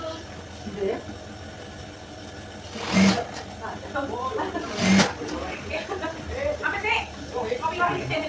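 A sewing machine stitches a school skirt in short bursts, with loud whirring runs around three and five seconds and quieter mechanical sounds between them, while a person talks throughout.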